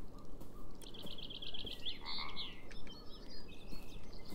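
Frog croaking in the video game Beyond Eyes, a series of bright, raspy calls repeating over a steady outdoor ambience, moderately close, with faint bird-like chirps and no talk.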